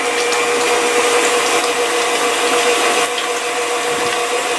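An electric hand mixer whirs steadily and loudly while beating apple cake batter before the dry ingredients go in, a continuous motor whine with a slight dip near the end and no talking.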